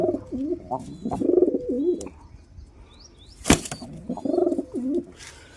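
Pigeons in a cage coo in soft, throaty bursts close by, with a sudden flutter of wings in the middle and brief chirps in the background.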